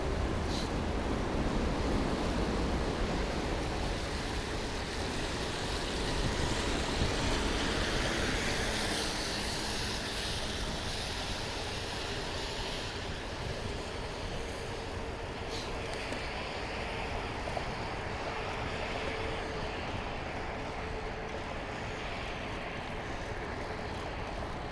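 A car drives over a wet road, giving a steady broadband hiss of tires on water with a low rumble that holds for about 25 seconds. There is no talk.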